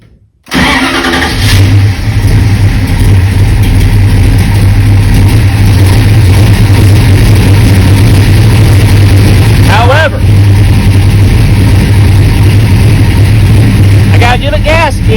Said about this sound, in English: The engine seems much happier now.